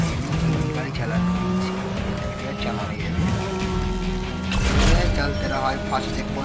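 A race car in the Need For Speed video game roars along with engine revs and tire squeals, swelling to a louder squeal near the end, under steady game music and effects.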